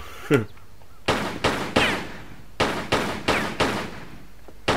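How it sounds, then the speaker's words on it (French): Pistol fire in the video game Tomb Raider 3, in a dark coastal village: about seven loud, sharp shots, each with a short decaying echo, come in a fairly regular series after an earlier brief click. "je tire pour me faire de la lumière"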